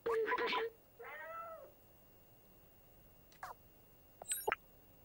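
A cat meows in the video game Stray, a couple of clear meows near the start followed by quieter short cries and chirps with gaps of near silence between them.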